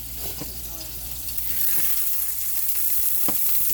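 Cabbage is layered into hot grease in a pan and fries with a bright hissing sizzle that grows louder partway through, punctuated by a few knocks of handling, with a voice speaking at times.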